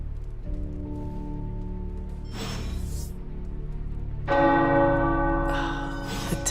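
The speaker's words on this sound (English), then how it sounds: "The tower bells are ringing." Tower bells ring out in a fantasy video game setting, struck twice with bright, sustained metallic tones layered over a steady low ambient hum and music.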